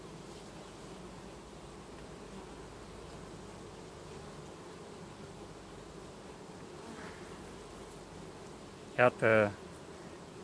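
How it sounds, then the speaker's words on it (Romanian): A continuous low drone of honey bees near an August hive during the midday foraging hours. Someone speaks briefly near the end over the buzzing. "Este albină, nu e nicio problemă."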